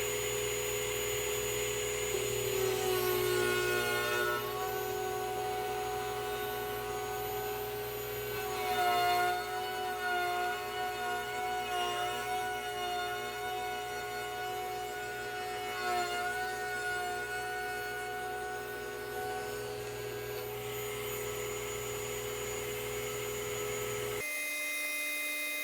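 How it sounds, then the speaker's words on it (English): Router bit whining steadily in a router table during a plunge cut into a wooden basket-weave cutting board, a loud continuous motor drone with shifting tones that stops abruptly near the end. "in my router table. I'm going to do a plunge cut like this."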